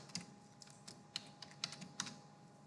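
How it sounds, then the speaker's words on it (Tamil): A computer keyboard clacks in a quiet room during report naming in Power BI, with a handful of separate, crisp keystrokes spread unevenly across the moment and nobody speaking. "இந்த டைப் பண்ணுற பாருங்கள்"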